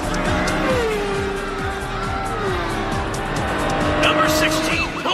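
A cartoon race car speeds through a race, its engine roaring with repeated revving passes, squealing tires and skids, loud and close, mixed with other race sounds while people talk over it.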